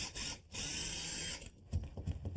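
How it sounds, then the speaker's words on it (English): A power drill bores through carpet into plywood floor sheathing, a loud steady whine for about a second, then rough, uneven grinding and bumping near the end. "when I drill this through the rug into the sheathing"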